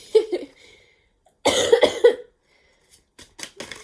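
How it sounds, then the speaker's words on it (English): A person coughs close by in harsh, hacking bursts: one short cough, then a longer cluster of several, and a few weaker coughs trailing off. "I'm like coughing now."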